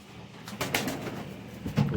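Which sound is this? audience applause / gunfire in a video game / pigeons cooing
pigeons cooing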